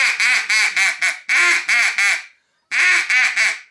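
A duck call blown by a hunter gives loud, close quacking in quick rhythmic bursts, a run of several calls, a brief pause, then another series, imitating a duck.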